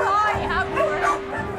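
A houseful of dogs at an animal sanctuary bark, yip and whine together indoors, a loud, close, unbroken chorus of overlapping high-pitched calls lasting the whole moment, with a steady tone running beneath.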